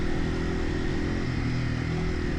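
A Yamaha TW200 motorcycle engine running steadily while riding, a continuous low drone heard close up with no talking.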